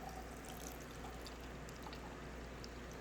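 Water runs from the thru-the-door dispenser of an LG 28.8 cu. ft. French door refrigerator as a steady, faint pour with a low trickle and no talk.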